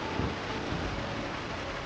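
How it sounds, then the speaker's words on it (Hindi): Steady rain with low thunder rumbling underneath, a constant dense wash of sound, close and uninterrupted, with no voices. "और फिर गरज के साथ बारिश शुरू हुई।"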